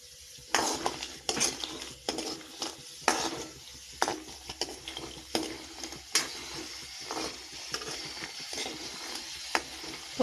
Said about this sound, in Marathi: आता वड्याची भाजी करण्यासाठी आपल्याला सांडगे तळून घ्यावं लागणार आहे अगोदर